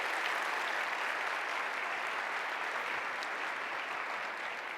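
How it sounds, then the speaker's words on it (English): Audience at an elementary school kindergarten information night in Arlington applauds its principals, a dense, even wash of many hands clapping that holds steady throughout and tapers slightly at the close. "let's give them a big applause for the job that they do for us here in Arlington"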